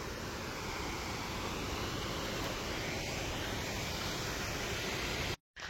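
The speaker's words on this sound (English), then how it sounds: "look at that waterfall" A waterfall at a crowded scenic viewpoint pours with a constant rushing roar, even and unbroken, with one brief dropout near the end and no voices.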